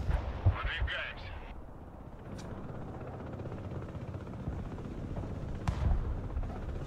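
A TOS-1A rocket artillery launcher fires in the modern warfare video game Broken Arrow, a few rumbling booms rolling under a low battle hum, with a voice talking at times.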